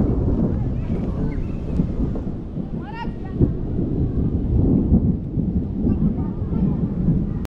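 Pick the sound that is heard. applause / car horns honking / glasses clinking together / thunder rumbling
thunder rumbling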